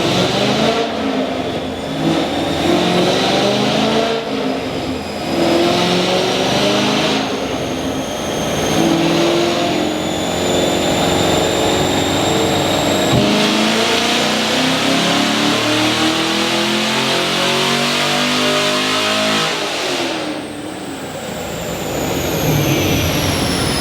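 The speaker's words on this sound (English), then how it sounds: "we're on the dyno" Car engine on a dyno at a tuning shop, recently fitted with a new air filter, revving hard through repeated long pulls, loud and close, rising and falling in pitch with a high whine, no talk.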